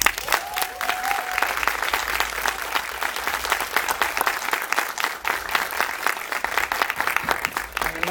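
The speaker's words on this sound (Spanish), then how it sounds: "les pido un aplauso para dar la bienvenida al Fisgón." A crowd at a children's literature festival in Tijuana claps steadily to welcome a guest speaker, a dense, sustained burst of many hands that holds at an even level for about eight seconds without talk.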